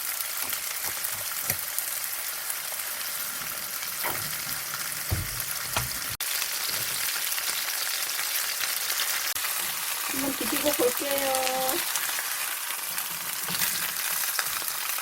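Rockfish frying in a generous amount of oil gives a steady, close sizzle that crackles throughout, with a faint voice rising briefly near the end.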